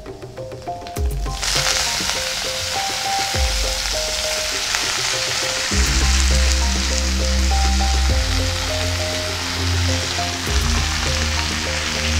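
Chopped water spinach greens dropped into a hot pan with crushed garlic, bursting into a loud, steady sizzle after a brief quieter start and frying continuously throughout.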